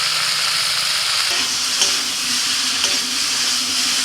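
Vegetables fry and sizzle in a pan with salt, turmeric and cumin powder while being stirred, a steady hiss with a few soft scraping knocks of the spoon.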